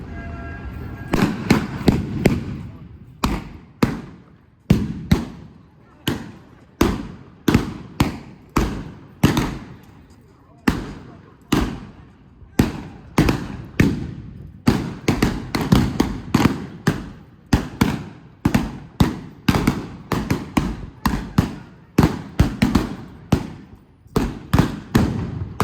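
Blank gunshots crack in a staged Wild West gunfight reenactment at a Dalton Days outdoor show, dozens of loud sharp reports in irregular bursts and rapid volleys, some echoing, with no talk.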